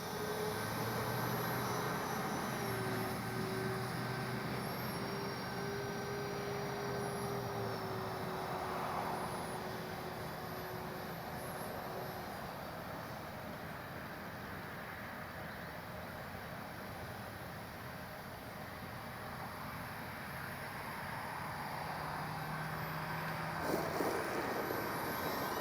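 An Avios Bush Mule V2 RC bush plane flies on its maiden flight, its motor a faint, distant whine that drifts up and down in pitch over a soft, windy outdoor background.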